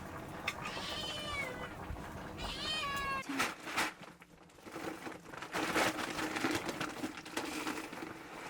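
Cat meowing close by in a rural shed, two drawn-out meows in quick succession followed by rustling and shuffling noises.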